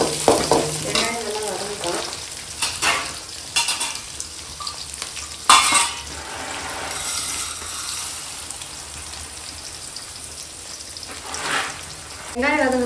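Urad dal frying in oil with onions in a pan, a continuous crackling sizzle broken by several sharp scraping stirs of a spoon against the pan, close and fairly loud, no talking.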